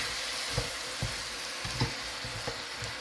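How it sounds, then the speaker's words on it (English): Sugar being stirred into yams in a pan gives a steady, moderate sizzle under periodic soft scrapes and clicks of the spoon, close up and without talk. "I'm just going to stir the sugar around."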